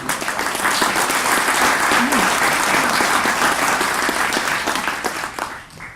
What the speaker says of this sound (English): if we could give a round of applause to everybody who presented